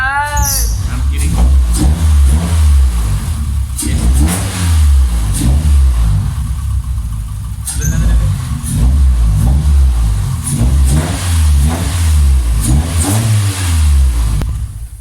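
A car engine on its first start-up fires and revs repeatedly, rising and falling in loud, close bursts with a steady idle between, while people talk over it.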